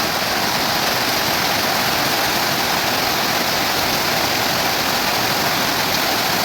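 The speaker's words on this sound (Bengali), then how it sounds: "আর বাইরে অনেক পরিমাণ বৃষ্টি পড়তেছে যার কারণে আওয়াজও আসছে" Heavy rain pours down outside as a loud, dense, unbroken hiss that fills the whole stretch evenly, with no voices.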